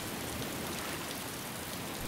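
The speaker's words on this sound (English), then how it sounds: "I've never been at it when it's raining" Rain falling in the video game DayZ, a steady, dense patter of drops forming a continuous wash of noise, fairly faint and unbroken, with no voices.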